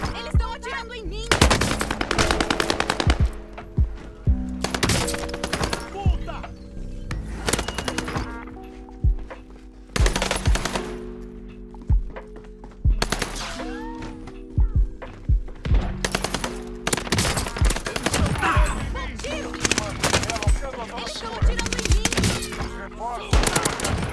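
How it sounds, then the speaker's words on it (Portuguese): Call of Duty Warzone gunfire crackles in loud, sharp automatic bursts separated by short pauses, repeating over a long stretch, with a player's voice speaking between and over the shots. "Eles estão atirando em mim!"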